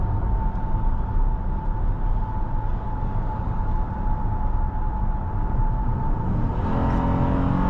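A 2020 Honda Pilot SUV engine drones steadily from inside the cabin, holding a continuous hum with a rising whine as it picks up speed near the end.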